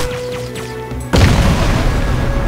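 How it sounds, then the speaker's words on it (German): A grenade blows up in the shooter Crysis during a losing firefight: quiet game ambience with faint tones, then a sudden loud close boom a second in that rolls into a lingering heavy rumble. "Und eine Granate kommt auch noch geflogen."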